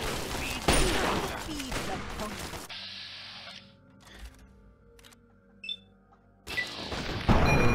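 Fallout 3 gameplay with rapid gunfire bursts up front, a quieter stretch of scattered clicks and thuds, then firing resumes at the end.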